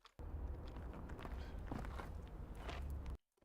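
A single footstep in a film dialogue recording, a dull close thud within a steady low room-tone bed lasting about three seconds before cutting to silence.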